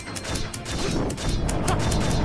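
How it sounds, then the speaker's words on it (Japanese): A fly enemy explodes in the action RPG ASTLIBRA, heard as dense crashing impacts and bursts of noise repeating rapidly in a loud, busy stretch of game sound. "あ、ハエが爆発すんのか。"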